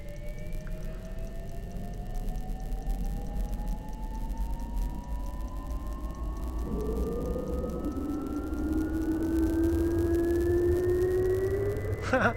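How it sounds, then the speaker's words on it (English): A Cessna Caravan turboprop spools up in X-Plane 10 as its generator-driven starter turns the engine: a steadily rising whine that climbs in pitch over about twelve seconds, with a low rumble growing beneath it, ending in a brief clatter. "You've got a generator firing up to start turning this massive Cessna Caravan engine"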